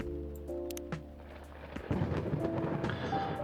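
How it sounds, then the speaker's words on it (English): Rain and thunder in the video game Coffee Talk: a deep thunder rumble rolls under steady rain hiss, with café music tones heard faintly at the start. "Ah, a rainy day."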